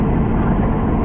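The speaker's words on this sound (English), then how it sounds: "I'm driving a 389 Peterbilt, a 2018 model. I got a Cummins X15" A 2018 Peterbilt 389 truck with a 500-horsepower Cummins X15 engine and an 18-speed Eaton Fuller transmission drones loudly and steadily from inside the cab, a deep, continuous engine and road rumble with no break.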